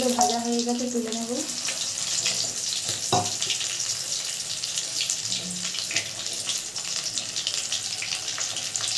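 Silver bele fish fry in hot oil with a steady, hissing sizzle that runs unbroken throughout, joined by a short voice near the start and an occasional clink of a utensil.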